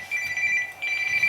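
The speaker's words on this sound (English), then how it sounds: "That would be my phone" A mobile phone rings in a workshop with a bright electronic trill, two bursts separated by a brief gap, fairly close and clear with no talk.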